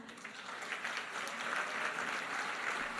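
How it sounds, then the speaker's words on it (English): An audience at an award ceremony applauds in a steady, continuous patter of many hands clapping, moderately distant and fairly soft, with no voices over it. "give a loud clap for that"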